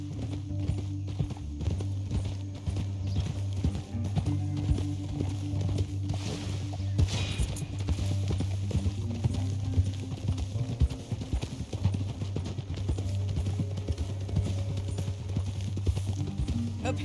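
Horse hooves clip-clop steadily in Red Dead Redemption 2, a continuous walking rhythm over a low rumbling game backdrop, with faint talk in the background.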